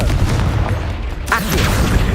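Rapid spell blasts from the Hogwarts Legacy video game burst one after another, loud and close, with booming impacts and crackling pops layered over a dense, continuous rumble of combat.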